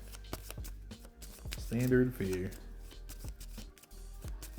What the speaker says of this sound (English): So I just shuffle this up and draw.